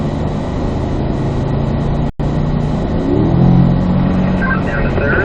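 A car engine hums loudly and steadily on a track driving session, then swells as it accelerates and revs higher partway through. The sound is close, from inside the car, with one sudden brief dropout.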